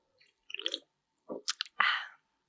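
Sips of a sour beer flavored with meringue and lime, heard as a few short, close wet slurps and mouth sounds with small pauses between them, with no talking.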